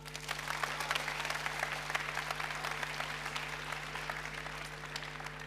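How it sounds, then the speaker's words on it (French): Audience applause at a youth program session of the ChangeNOW 2024 event, steady dense clapping from a room full of people at moderate level with a constant low hum underneath, no talking. "vous pouvez applaudir Rose"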